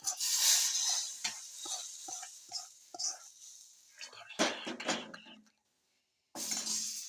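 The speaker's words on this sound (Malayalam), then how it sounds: "ഉള്ളി മൂത്ത് വന്നിട്ട് അതിലേക്ക് ഇതേ കറിവേപ്പില ചേർത്ത് കൊടുക്കുന്നത് കുറച്ച് ഞാൻ മുളക് പൊടി ചേർത്ത് കൊടുക്കട്ടെ" Onions fry in a pan with curry leaves and chili powder for a dried shark curry, heard as a soft sizzle under intermittent utensil scrapes and clatters, with faint low voices and one brief silent gap.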